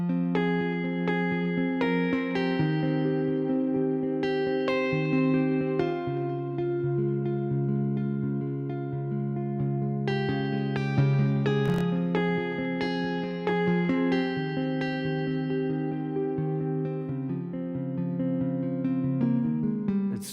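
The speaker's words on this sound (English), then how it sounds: "a little bit of treatment, a little bit of reverb, a little bit of delay," Sustained guitar notes ring out and linger, washed in reverb with echoing repeats trailing each chord, a slow, spacious passage with no voices.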